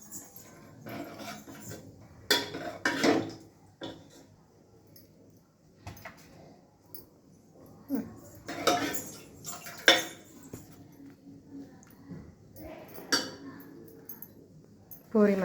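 Puri and potato sagu are served onto a plate with sparse, light clinks and scrapes of dishes and utensils, quiet and close, alongside faint bits of a voice.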